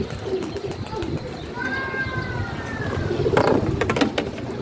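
Pigeons at a pigeon club, newly released birds, coo and call steadily over a busy outdoor background, with brief bursts of fluttering wing noise near the end.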